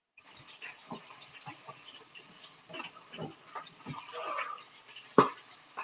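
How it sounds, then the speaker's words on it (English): Liquid bubbles and boils in a cooking pot, a faint scatter of irregular pops and gurgles, with one sharper pop near the end and no talking. "It's bubbling and boiling."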